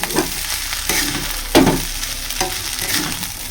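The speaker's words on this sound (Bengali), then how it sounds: "এখানে বানিয়ে নিলাম হচ্ছে পেঁয়াজ আলু আর ডিম দিয়ে হচ্ছে ভাত ভাজা" Rice frying in a pan with onion, potato and egg gives a close, steady sizzle with periodic scraping stir strokes, and no one speaks.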